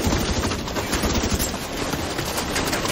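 A deployed turret in The Division 2 firing continuously, a dense rapid stream of gunfire that fills the whole moment, loud and unbroken.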